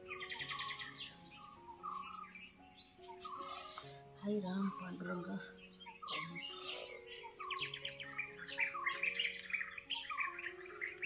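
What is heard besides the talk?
various birds calling in the morning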